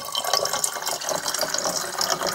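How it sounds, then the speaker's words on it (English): Fresh tap water runs and pours into a bottle being topped up to about half full, a steady bubbling, gurgling fill that stays close and fairly loud for the whole stretch. "There we go, some fresh tap water."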